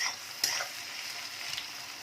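Onions soften and fry in a pan for a Bengali mutton curry, giving a steady, even sizzle with one brief scrape of a spoon near the start, close and moderately quiet.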